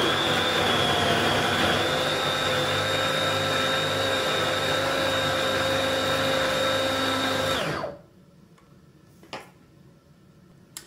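A blender whirs steadily at high speed through a Lebanese-inspired purée, a loud, even motor drone that cuts off abruptly, leaving a few faint clicks.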